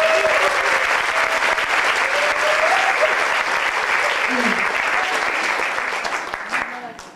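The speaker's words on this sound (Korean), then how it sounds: "더 큰 박수를 부탁드립니다." Sustained applause from a concert audience at a Korean folk group's album-release show, steady, full clapping that fades toward the end, with voices faintly present underneath.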